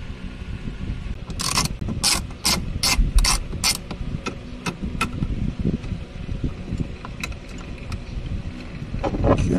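A hand ratchet tightening bolts on a Toyota Tundra mount, with several rapid bursts of sharp clicking close by, separated by brief pauses and light handling noise.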